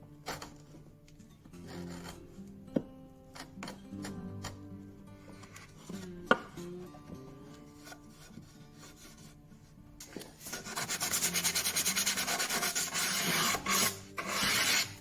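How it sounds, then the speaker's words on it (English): Sandpaper rubs along a wooden edge in a small workshop, breaking the arris; quiet scattered scrapes and taps give way to steady, louder back-and-forth rasping strokes near the end, with no talk. "Bit of sandpaper just to take the aris off, or some people call it breaking the edge"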